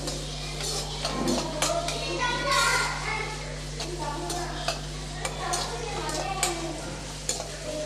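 Onions sautéing in a pan for Tamil-style tomato rice, a soft continuous sizzle with stirring scrapes and a steady hum underneath, children's voices faintly in the background.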